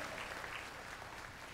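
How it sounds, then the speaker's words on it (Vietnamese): An audience at a poetry recital applauds after the final poem, a brief, fairly faint and even patter of clapping from a small crowd. "Xin quý vị cho Y Lan một tràng vỗ tay"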